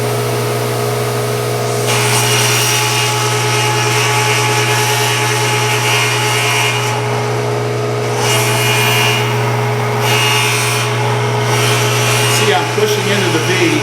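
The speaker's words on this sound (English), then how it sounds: "So I'm going to turn this on, and I'm going to cut the first pass." A table saw makes a first pass cutting into a wooden seat blank, running with a steady loud motor drone while the blade grinds and rasps through the wood in uneven surges.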